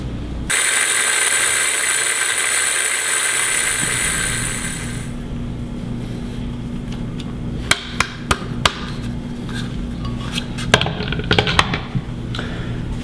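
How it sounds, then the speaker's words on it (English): A blender grinds seeds into a fine powder, giving a steady, high-pitched motor whine for about five seconds before cutting off, followed by scattered sharp knocks and taps. "let's get these seeds blended into a fine powder"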